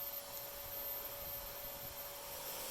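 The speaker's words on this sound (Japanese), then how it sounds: "掃除機のスイッチを入れて風を送り込みます" A household vacuum cleaner blows air into a homemade charcoal forge burning leftover barbecue charcoal, a steady broadband whoosh with a constant whine, running continuously and fairly close.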